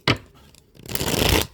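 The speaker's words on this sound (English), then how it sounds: "I apologize if the shuffling is so loud." Playing cards riffle-shuffled close to the microphone during a tarot-style reading: a short crisp burst, a pause, then a longer, louder rustling shuffle lasting about half a second.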